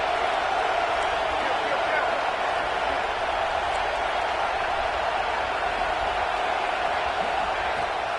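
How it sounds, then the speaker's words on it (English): A packed football stadium crowd at a Purdue versus Texas game roars in a dense, steady wash of noise that stays loud and unbroken, with a commentator's voice running underneath. "This crowd ready to make its presence known"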